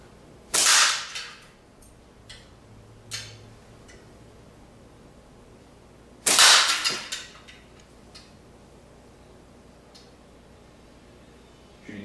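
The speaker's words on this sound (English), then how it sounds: "Shooting 3/8 steel ammo." A CF Lizard slingshot fires 3/8 steel ammo at a can about 15 feet away: two sharp, loud cracks several seconds apart, each with a brief rattle, plus a few faint ticks in between.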